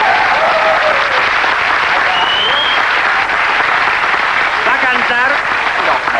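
Audience applause at a bolero contest, a steady dense clapping that fills the whole stretch, loud and close, with a brief musical or vocal sweep rising through it near the end.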